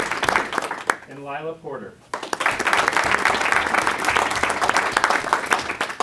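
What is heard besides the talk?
audience applause at a school board meeting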